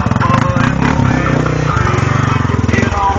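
A Honda Rubicon ATV engine runs loud and close, blowing out its water-soaked exhaust, the rough, pulsing note rising and falling as it revs, with a voice speaking over it.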